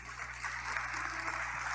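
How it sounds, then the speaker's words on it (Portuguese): A church congregation applauds, a steady, hissing wash of many hands clapping that is fairly faint and distant and continues evenly throughout, with no voices. "Você pode aplaudir mais forte a Jesus."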